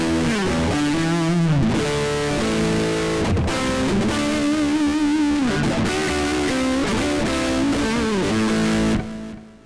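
An electric guitar plays through a Zoom G1X Four multi-effects pedal on a Boogie amp patch, giving a loud, thick, distorted tone with sustained chords and bends that run steadily and then cut off at the end.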